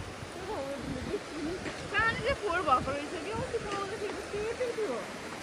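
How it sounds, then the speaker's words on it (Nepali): Swollen stream running strong, a steady rushing wash of water under people talking nearby. "पानी ठुलै आउनु थालेको रहेछ"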